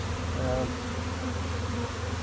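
A dense, steady buzz of a honeybee swarm hums continuously at moderate volume, close by, with a faint higher tone drifting briefly above it.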